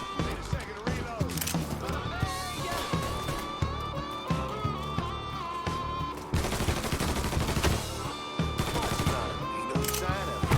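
Gunfire from a Mafia III shootout, with dense, loud rounds of shots layered over shouting voices and game music in a continuous, busy mix.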